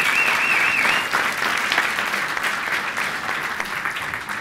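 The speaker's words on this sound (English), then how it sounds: "So please give all of our participants a big round of applause, please." An audience applauds at the FameLab Ireland 2015 final, a science communication competition, with dense, loud, continuous clapping from a large crowd that lasts throughout and fades slightly toward the end.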